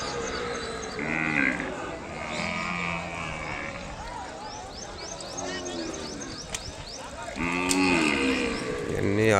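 Young Ongole breed calves low several times at a cattle market in Kodad, moderately close, with faint background voices and bird chirps between the moos.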